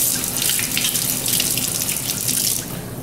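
A kitchen sink tap runs steadily while food is rinsed under it, close and continuous before the water cuts off near the end; no one speaks.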